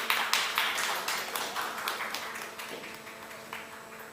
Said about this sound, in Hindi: आप सभी से तालियों का सहयोग।